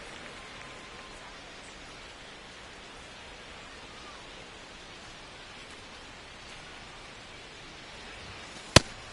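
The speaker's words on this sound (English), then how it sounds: "It feels like we might be headed towards a rain delay if the weather doesn't ease up, Chris." Soft, steady rain hiss inside an MLB baseball video game, faint and unbroken throughout, ending with one sharp loud click near the end.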